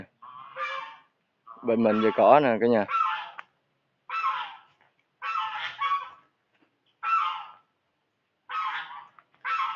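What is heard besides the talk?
geese honking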